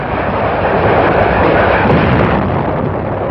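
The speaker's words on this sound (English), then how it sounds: "Tiny Walmey broke into flames as naval gunfire hit enemy ammo and fuel dumps" Naval gunfire pounds enemy ammunition and fuel dumps at Wolmi Island during the Inchon landing bombardment, a loud, dense continuous roar of blasts and rumble on an old newsreel soundtrack.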